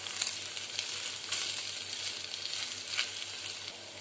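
Taro root frying and being stirred in a spice paste in a pan, a steady soft sizzle with occasional brighter crackles and scraping bursts from stirring; fairly quiet, with no talk.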